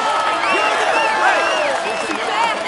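A virtual crowd in the Tour de France 2017 game applauds and cheers a stage winner on the podium at Foix: continuous clapping and crowd noise with rising and falling cheering voices, moderately loud.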